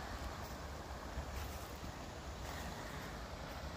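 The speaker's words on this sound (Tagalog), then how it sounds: "rinig na rinig yung agos ng tubig dun sa ilog" Steady, quiet broadband rush of a river flowing, heard from higher ground on a morning walk, continuous and unbroken, with a faint airy hiss over it and no voices.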